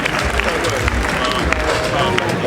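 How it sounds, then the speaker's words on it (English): A crowd applauds steadily throughout, a dense wash of clapping with scattered cheers and murmuring voices mixed in. "A round of applause as she comes on stage."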